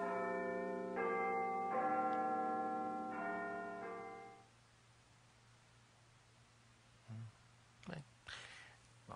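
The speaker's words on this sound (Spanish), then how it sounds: "vamos a analizar esas campanas" Church bells ring in a layered, sustained peal for about four seconds, then fade, leaving quiet background with a few brief rustling noises.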